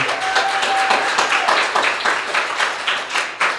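Audience applause for a performer, steady clapping from a crowd that continues throughout, fairly loud and close.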